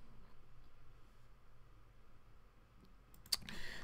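A single sharp mouse click lands near the end as the Add New plugin button is pressed in WordPress. Before it there is only a faint, quiet room hiss.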